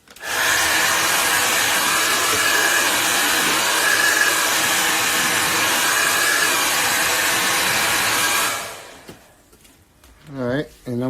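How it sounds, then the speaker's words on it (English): A hair dryer blows steadily and loudly for about eight seconds while drying paint during a live painting session, then cuts off, leaving quiet handling sounds and a brief voice at the end. "I'm going to blow dry this for us a little more."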